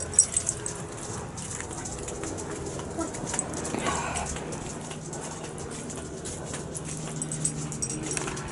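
A female puppy whimpers and yips softly a few times at close range, with faint background noise and occasional quiet voices.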